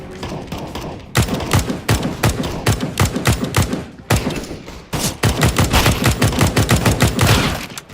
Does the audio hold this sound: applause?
no